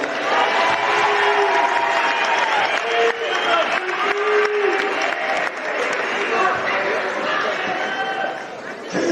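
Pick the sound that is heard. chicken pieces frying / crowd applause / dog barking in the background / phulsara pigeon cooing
crowd applause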